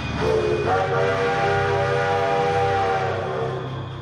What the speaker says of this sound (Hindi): क्या ये ट्रेन ढोलकपुर स्टेशन पे रुकेगी?